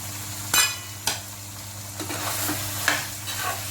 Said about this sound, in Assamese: এতিয়া মই এইখিনি আৰু 2 মিনিটমান সময়ৰ কাৰণে আৰু ভাজি ল'ম।